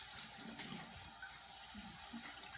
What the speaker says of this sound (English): and then we'll put the water in.